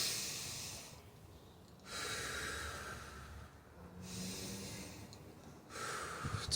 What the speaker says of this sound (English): let's go ahead and do our breathing.